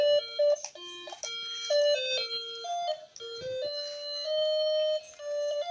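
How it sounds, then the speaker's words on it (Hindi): A melodic phone ringtone plays a bright sequence of tonal notes, loud and close, repeating its tune for several seconds with no talk over it. "किसका फोन आया दिखाइए।"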